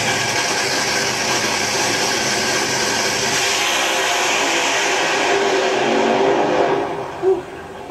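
A loud race car engine runs at a sustained high roar with a dense, noisy texture, easing off briefly near the end.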